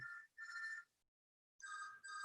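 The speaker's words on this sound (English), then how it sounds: "I think my mother's phone is ringing out there." A telephone rings in another room, two faint electronic trilling bursts separated by a pause, distant and thin with no voices over it.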